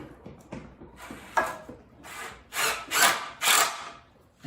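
A power drill drives screws into pocket holes in wood, giving four or five short rising whirring bursts in quick succession, close and moderately loud, with faint rubbing and handling sounds between them and no talk.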